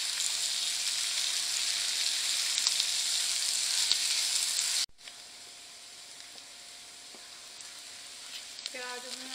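Onions and spices frying in a pan over a medium flame for bhindi masala, a steady close sizzle that drops abruptly to a quieter hiss halfway through, with faint stirring clinks near the end.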